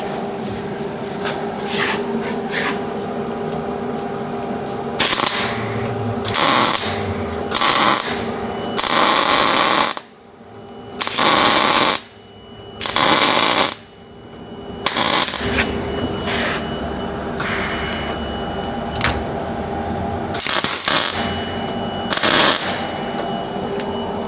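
Short weld runs on a worn Ferguson TEA20 tractor linkage in a workshop: loud crackling bursts, each lasting about a second, repeat at fairly regular intervals with quieter pauses between them.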